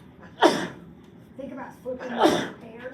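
Two sharp sneezes in a classroom, the first sudden and loud, the second preceded by an inhale, with a teacher talking quietly in between.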